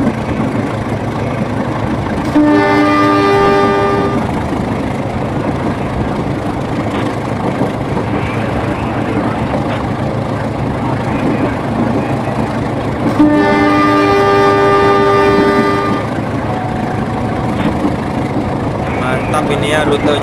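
In Trainz Simulator, a locomotive in new livery hauls a container freight train with a constant rumbling engine drone. Two long horn blasts sound, one early and one midway, both loud and close.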